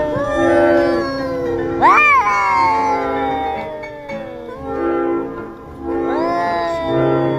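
Several street cats yowl and caterwaul at night, long wavering cries rising and sliding in pitch, loud and close, overlapping one another in repeated drawn-out bouts.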